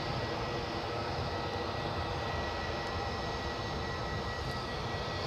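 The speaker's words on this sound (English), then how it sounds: "You can probably hear the sound of an approaching EasyJet." An EasyJet Airbus A320 jet approaches Edinburgh airport as a faint, steady, broad rumble that holds without change.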